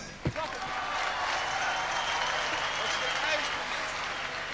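Concert audience in Belgrade applauding, a sustained wash of clapping and crowd noise over the full stretch, with one sharp thump near the start.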